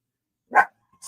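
A single sharp dog bark rings out once in an otherwise silent indoor setting, close and fairly loud, followed by a faint trailing yip.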